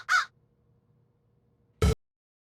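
A crow caws twice, each a short, loud, harsh call standing alone in near silence with a long pause in between.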